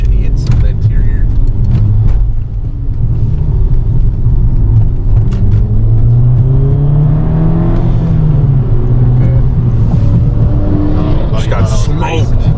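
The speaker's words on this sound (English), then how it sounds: "Alright, so I'm sitting here revving it." Engine of a VW MK5 GTI revving in long rising and falling sweeps, a loud low rumble that swells mid-clip and eases off, with faint voices in the background.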